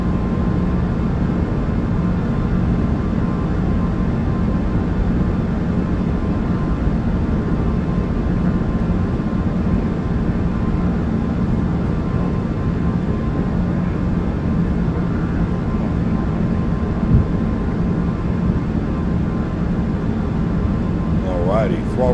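A simulated four-engine Airbus A340-300 climbs out after takeoff from Zurich in Microsoft Flight Simulator 2024. A steady, broad engine roar holds evenly throughout, with a brief rising whine near the end.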